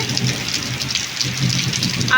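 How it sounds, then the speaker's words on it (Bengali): Rain falls onto a pond in a steady, close hiss with soft patters, continuing evenly for a couple of seconds while a person talks over it. "এই যে বৃষ্টির জল পড়ছে"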